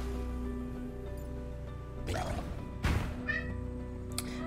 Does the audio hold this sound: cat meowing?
yes